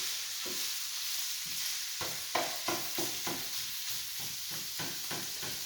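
Alfredo ingredients stirred in a sizzling pan, with a steady hiss of frying and repeated scraping strokes of the spoon in an uneven rhythm, close and clear.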